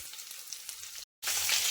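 Stuffed brinjals (eggplant) fry in oil in a kadai, giving a steady close sizzle that briefly cuts out and then returns louder.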